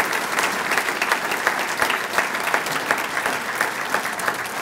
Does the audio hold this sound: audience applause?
yes